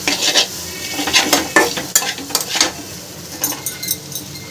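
Maggi noodles sizzle in a pan while a utensil stirs and scrapes through them in quick, irregular strokes, close and fairly loud.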